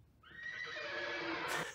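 Horses whinny in the film Young Frankenstein, a single long, loud neigh that rises and wavers for nearly two seconds with no voices over it.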